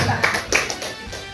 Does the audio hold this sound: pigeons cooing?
no